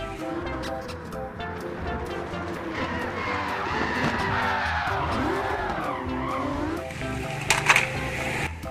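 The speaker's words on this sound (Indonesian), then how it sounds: "Lihat mobil balap warna merah." A red toy race car gives off a sustained skidding, tire-squeal-like whine that rises and falls in sweeping tones over a busy background, ending in a few sharp clicks.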